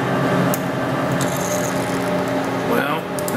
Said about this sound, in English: I'm just going to go to where my pilot drill ends. This is a blind hole